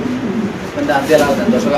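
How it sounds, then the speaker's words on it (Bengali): White Mundian pigeons coo at a pigeon farm, soft repeated low calls heard close by and mixed in with people talking throughout. "সাদা মুন্ডিয়ান কবুতর একদম ডিব্বার মতো ফুল ব্রিডিং আছে"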